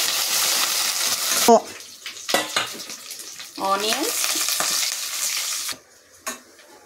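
Onions, green chillies and curry leaves fry in a pan for a spicy chickpea dish, sizzling loudly and close with bursts of hissing and stirring scrapes that fade near the end.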